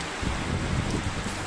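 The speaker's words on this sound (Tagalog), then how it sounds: "Ayan, medyo malakas na po yung ulan," Heavy rain driven by strong wind during Typhoon Paeng in Laoang, Northern Samar, a dense, loud, continuous roar with gusty buffeting.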